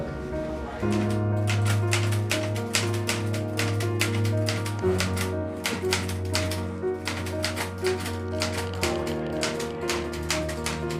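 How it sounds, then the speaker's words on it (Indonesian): Rapid typewriter keystrokes clatter steadily at close range as the Indonesian proclamation text is typed, set over a sustained musical drone of low held tones. "Sayuti Melik pun mengetik teks tersebut."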